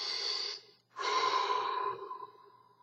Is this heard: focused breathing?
yes